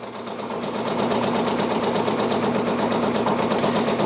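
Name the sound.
Brother Persona PRS 100 embroidery machine stitching a patch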